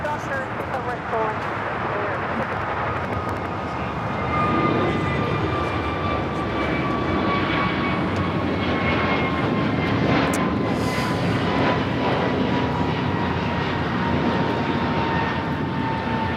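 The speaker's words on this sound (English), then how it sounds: "2901 taking off to Charlotte on the A321neo" An American Airlines A321neo jet takes off at LAX, its engines a loud, sustained roar with rising whine tones, heard close and continuous throughout.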